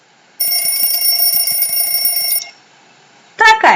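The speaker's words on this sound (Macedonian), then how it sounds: "Ова е будилник." An alarm clock rings steadily with a bright, continuous electronic tone for about two seconds, then stops; after a short pause a different loud, sharp sound bursts in at the end.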